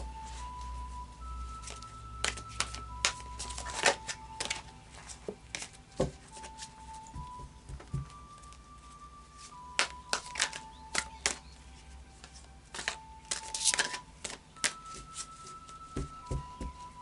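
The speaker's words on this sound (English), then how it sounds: "I'll just do a final shuffle now of the Psychic Tarot" Tarot cards being shuffled in repeated crisp riffles and taps, close and fairly quiet, over a soft steady background hum.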